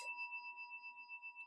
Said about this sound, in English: Allow the sound of the chime to call you to presence.